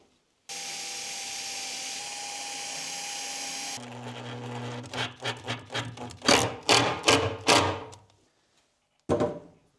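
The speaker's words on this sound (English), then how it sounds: "drill pilot holes and mount them with screws" A power drill whirs steadily at high speed drilling pilot holes for an angle bracket, then a series of short bursts follows as screws are driven in, close up and fairly loud.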